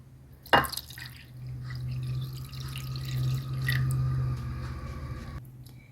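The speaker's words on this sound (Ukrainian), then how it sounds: "Ну, а тепер заливаємо стаканом білого сухого вина." A glass of dry white wine is poured over carp in a pan for stewing, opening with a sharp splash and then a soft, continuous liquid trickle for several seconds, close and quiet.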